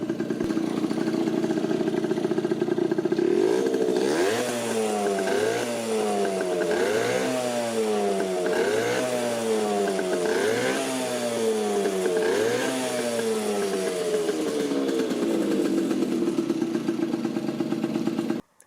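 A vintage Yamaha RX50 two-stroke, five-speed motorcycle runs close by. It revs up and down in repeated rising and falling surges with a raspy, buzzing tone, then settles back to a steady idle.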